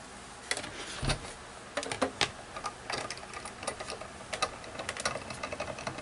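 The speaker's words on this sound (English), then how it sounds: "I like this little tiny die cutting machine." Small discontinued die cutting machine cranking a die through, a close run of irregular clicks and ticking mechanical knocks with a faint hum underneath, moderately quiet and free of speech.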